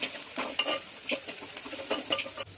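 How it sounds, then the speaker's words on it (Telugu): Onions and curry leaves fry in hot oil, a close, continuous crackling sizzle broken by scraping strokes from stirring, with no voices. "ఉల్లిపాయలు వేసాక మంచిగా వేగాక కరివేపాకు కూడా వేయాలి"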